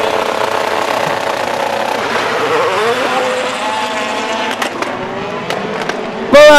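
Race cars at the Dreux 2022 event roar in a dense, sustained engine wash, with a car missing its turn and jostling another; engine pitch sweeps across the pack, ending in a sudden loud burst.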